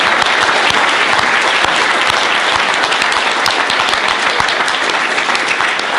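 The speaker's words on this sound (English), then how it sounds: "the big round of applause here for our most excellent speaker" Loud, dense applause from an audience thanking the speaker after a talk on fracking, an unbroken roar of clapping hands lasting several seconds with no talking.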